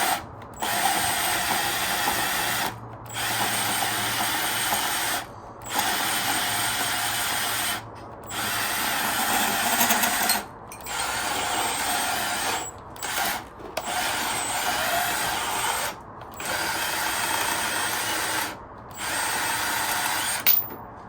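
Battery-powered tool cutting down wide metal pit bike handlebars with a weakening battery, a close, loud whirring run in repeated bursts of a few seconds, each broken by short silent pauses.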